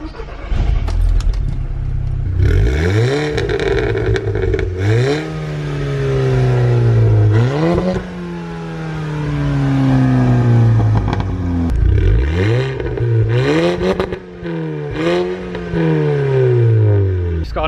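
Mk6 Volkswagen Golf R with a TFSI engine, stage 2 plus tune and no exhaust resonator, revved repeatedly, each rev rising into a loud growl and dropping back, with crackles between pulls.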